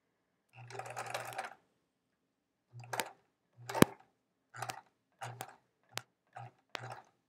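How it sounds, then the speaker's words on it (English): A sewing machine stitches across a loose thread on quilting fabric in short bursts: one longer run, then about seven quick separate runs with pauses between, close and fairly quiet. "I'm going to just sew over this thread here."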